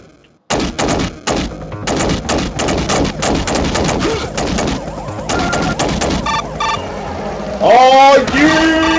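Rapid bursts of gunfire crack through a movie-based shooter game, loud and dense with overlapping shots and impacts, ending in whooshing effects.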